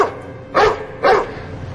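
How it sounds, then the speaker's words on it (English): A Belgian Malinois barks twice in quick succession, loud and close, with a short gap between the two barks and a quiet background. "Belgian Malinois."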